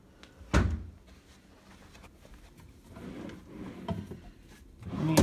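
A drawer in a hotel room at the Hampton Inn in Cedar Falls, Iowa, opens with a sharp wooden thunk, slides with quiet rumbling, and closes with another thud.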